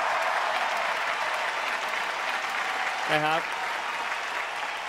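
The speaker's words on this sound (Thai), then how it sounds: "ก็ปรบมือให้กับนักเรียนระดับมงกุฎทูตนะครับ" Steady applause from an audience at an Amway diamond-level pin award ceremony, a dense even wash of clapping throughout, with a brief spoken phrase in Thai partway through.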